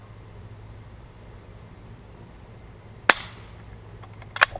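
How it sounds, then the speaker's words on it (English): A quiet gunshot fired at a stick outdoors, which sounds like a pellet gun: one sharp, short crack with a quick fading tail partway through, then a fainter double snap near the end, over a low steady outdoor rumble. "That sounded like a pellet gun."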